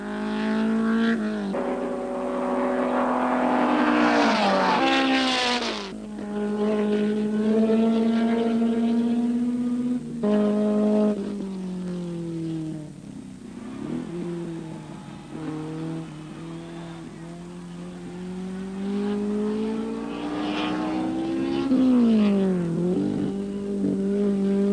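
Racing cars, including an Alfa Romeo GTA, roar through the Sandown 6 Hour race, engines revving up and down through gear changes and passing close, loud and continuous with no talk.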